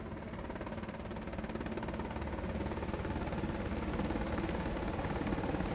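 Naval fast interceptor craft run at high speed in formation during a maritime parade and operational demonstration. A steady, loud, droning engine roar builds slightly and carries on without a break.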